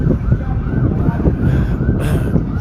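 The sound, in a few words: sirens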